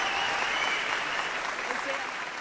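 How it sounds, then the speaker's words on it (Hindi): Audience applause in a Hindi-Urdu poetry gathering: a steady, dense wash of clapping that holds at an even level for the whole stretch, with no voice over it. "और ये तालियों की जो गूंज थी,"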